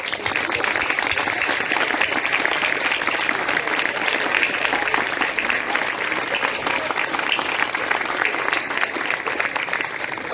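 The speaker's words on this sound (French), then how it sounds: "Et maintenant on applaudit tous les enfants." Audience applause for children at a Belgian school ceremony in Comines, steady dense clapping that fills the whole stretch without pause, loud and close.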